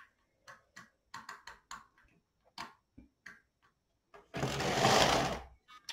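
A Silver Reed LK 150 knitting machine carriage being pushed across the needle bed, a series of sharp clicks and ticks followed by one longer loud rushing slide, close up with no voices.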